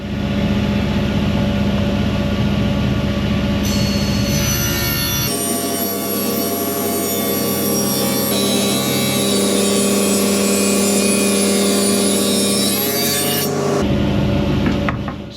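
A table saw runs 4x2 timber through to cut it into uniform 2-inch blanks. It gives a loud, sustained motor roar whose tone shifts as a cut begins and ends partway through, and no one speaks.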